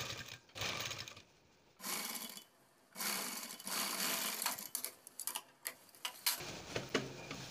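A sewing machine stitches along the folded-in neckline of a blouse, its fast whirring runs starting and stopping in bursts, close and steady, with soft fabric handling between runs.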